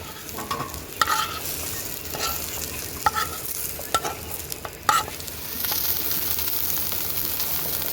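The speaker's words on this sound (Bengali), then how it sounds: "জুটকি ভাজা হয়ে গেছে" Dried fish (shutki) frying in a pan for bharta makes a constant crackling sizzle, punctuated by repeated sharp clicks and scrapes of a spatula stirring, steady and close throughout.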